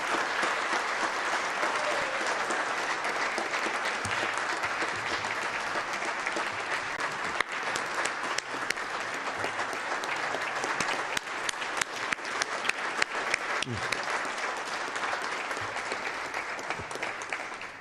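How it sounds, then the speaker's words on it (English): Applause fills a state legislative chamber during a regular session, a long even wash of clapping from many hands with a few sharper claps standing out near the end. "I'd just like to give them a round of applause"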